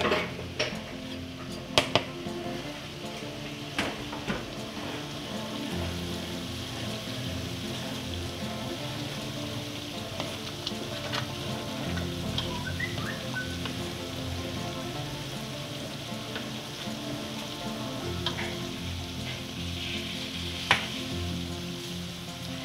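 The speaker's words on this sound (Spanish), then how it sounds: "ahora vamos a agregar la cebolla que picamos junto con el chile habanero" Chopped onion and habanero chile fry alongside tomato in a pan, giving a soft, steady sizzle broken by scattered clinks of utensil against pan; no one speaks.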